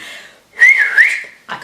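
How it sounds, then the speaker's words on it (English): A single person whistles a short rising-and-falling tune of two bright notes, close and clear, with a brief extra whistle at the end. "I can whistle."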